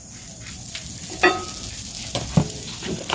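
A little oil sizzles in a pan before egg goes in for an egg roll, a soft steady crackle with a couple of brief scraping stirs, close and moderate, no speech.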